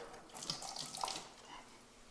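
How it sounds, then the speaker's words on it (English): Running water splashing steadily from a tap, rinsing mead-making equipment with RO water, a continuous bright hiss with small spattering drips, close by and with no talking. "We'll again rinse it off with RO water."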